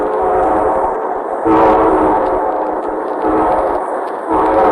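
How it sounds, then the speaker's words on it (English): A train rumbles past loudly and steadily, with a brief surge of roaring noise midway and a rhythmic mechanical clatter throughout. "And here comes our star-studded show train."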